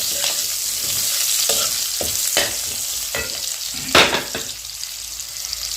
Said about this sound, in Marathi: कांदा पहिला एक दोनच मिनिट कांदा भाजून घेऊया